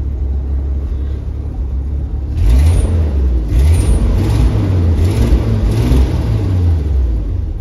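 A 1984 Jeep CJ8 Scrambler's engine idles close by with a steady low rumble, then swells into several rhythmic revs.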